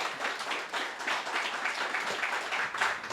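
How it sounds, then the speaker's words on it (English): Steady applause from an audience at a public meeting in Point Fortin, a dense even patter of many hands clapping throughout, moderately loud and without voices on top. "Please give her another round of applause."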